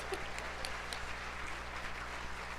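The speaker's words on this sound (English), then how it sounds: "Let's give a big round of applause to all of our competitors and all of the amazing committee members" Applause at a 4-H horse roundup awards ceremony for competitors and committee members, a steady wash of clapping from a hall audience, fairly faint and even throughout.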